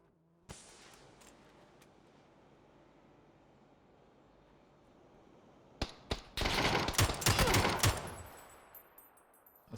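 A burst of rapid gunfire from the battle royale video game PUBG erupts after a long stretch of quiet ambience, with sharp cracks and a dense automatic volley, loud and close.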